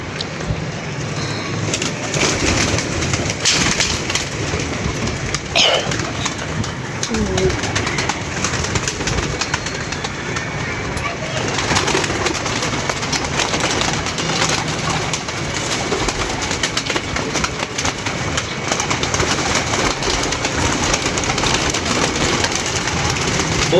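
A flock of racing pigeons coos continuously at close range, soft throaty calls layered over a steady outdoor background with wing rustles and faint distant noise.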